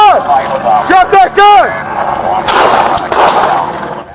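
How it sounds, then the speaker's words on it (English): Police gunfire in an officer-involved shooting in Los Angeles, heard as loud bursts of sharp cracks in the second half, following shouted commands from officers. "The suspect was struck by gunfire"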